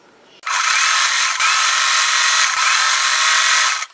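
A sewing machine runs steadily as it stitches fabric strips together into strip sets for crumb quilt blocks, a loud continuous whir lasting several seconds with two brief hitches, starting and stopping abruptly.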